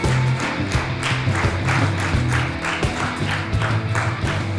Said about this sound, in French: Oui, on applaudit pour Armel